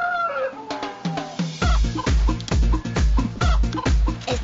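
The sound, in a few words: chickens clucking, hen and rooster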